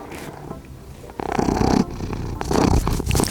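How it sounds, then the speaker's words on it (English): A cat purrs up close in a low, rumbling rhythm, swelling louder in pulses, with no talking. "Do you want to hear his ASMR purring?"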